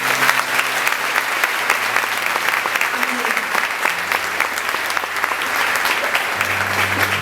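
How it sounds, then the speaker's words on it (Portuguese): A church congregation applauding in honour of the Virgin Mary, sustained dense clapping from a large crowd that runs steadily for several seconds, with a sung or spoken voice faintly carrying underneath. "Vamos também aplaudir a Virgem Maria."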